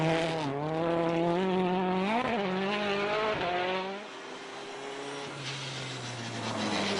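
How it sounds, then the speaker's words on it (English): A struggling Mini rally car's engine sounds rough as it drives on a snowy Scandinavian forest rally stage. Harmonic engine tones rise and fall continuously with revs and one sharp dip, and the noise drops back somewhat in the later seconds. "That is clearly a very sick-sounding Mini"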